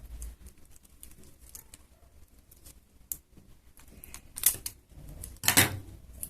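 Scissors snip through a paper puppet leg in short scattered cuts, mostly faint clicks, then two louder crisp snips near the end, close by with no talking.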